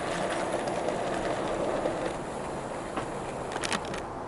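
A Bachmann Baldwin Class 10-12-D model locomotive runs along track pulling five passenger coaches, giving a steady close rolling rumble with faint rhythmic clicking of wheels over rail joints and no talk.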